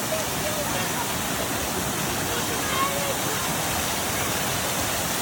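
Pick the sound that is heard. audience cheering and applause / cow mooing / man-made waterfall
man-made waterfall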